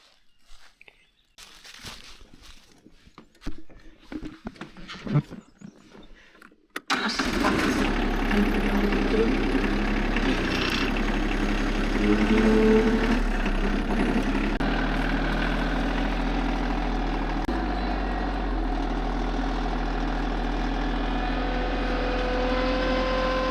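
After a few seconds of scattered knocks and rustling, a tractor engine starts idling, a loud, steady low rumble that continues to the end.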